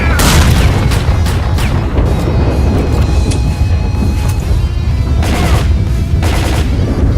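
Weapons fire in the S.T.A.L.K.E.R. video game, loud and continuous with dense booming shots and bursts throughout, heavier clusters of rapid fire near the start and end.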